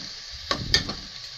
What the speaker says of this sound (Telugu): బాగా వేపుకునండి ఇలాగా చక్కగా